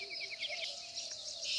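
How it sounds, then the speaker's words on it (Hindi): Birds chirp in the mountains in the early morning, with quick, high, repeated calls over a soft, steady outdoor background and no voices. "चिड़ियों की चहचहाट"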